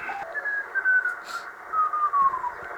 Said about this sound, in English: So that's Morse code.